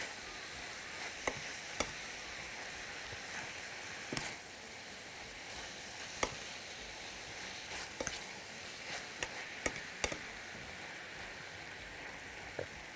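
Minced meat frying in a pan while being stirred, a steady close sizzle with scattered sharp scrapes and taps of the utensil against the pan.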